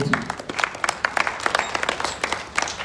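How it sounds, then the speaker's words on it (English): An audience at a surprise birthday gathering claps for a guest, a fairly sparse, uneven burst of individual handclaps at close range, no one speaking over it. "A round of applause for Pamela Boti."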